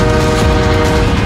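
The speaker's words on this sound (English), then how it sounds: "The train is just seconds away" A northbound train rushing through a level crossing, loud and close, with a continuous rumbling roar and a horn blaring steadily over it throughout.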